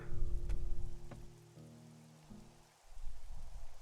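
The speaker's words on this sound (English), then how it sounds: "it's another rainy day apparently" Rain in the survival game 7 Days to Die, Alpha 20: a soft, steady hiss of falling rain with faint tonal game notes drifting underneath, swelling and fading at low volume.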